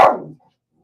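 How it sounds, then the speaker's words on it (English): A single sharp dog bark, close and loud, dying away quickly into silence. "she's just barking at somebody walking their dog"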